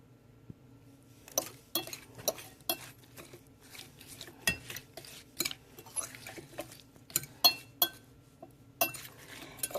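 A fish taco topping is stirred in a bowl, producing a quick series of close clinks and taps of a utensil against the dish, irregular but continuous, with a faint low hum in the background.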